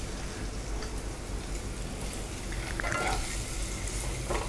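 Eggs roasting in oil in a pan for an egg masala gravy, sizzling in a steady, close crackle with a few brief scraping stirs and no voices.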